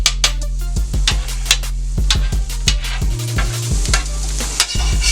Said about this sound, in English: So immediately that starts to bubble. As always, it's just, you know, cooking an egg.